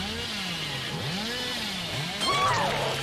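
Hillbilly's chainsaw in the horror game Dead by Daylight revs in rising and falling engine sweeps, droning steadily and then surging louder near the end, with no one talking.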